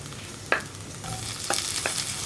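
Grated coconut fries in a pan under a soft, steady sizzle, with a few distinct scrapes of a spoon stirring through it at close range.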